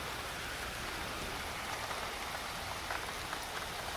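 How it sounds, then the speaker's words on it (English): Steady rain falls outdoors at dusk, a dense, even hiss of drops on surfaces that continues without a break and with no voices. "It's raining, it's pouring"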